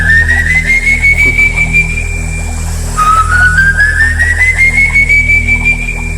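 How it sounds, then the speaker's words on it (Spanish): A long, steady whistle attributed to the legendary El Silbón glides slowly upward in pitch, breaks off and restarts lower, then rises again, loud and continuous over a constant low hum. "este es el sonido que emitía el silbón."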